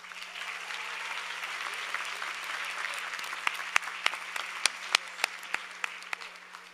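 Commencement ceremony audience applauding steadily at a distance, a dense wash of clapping with a few sharper, closer claps standing out toward the end.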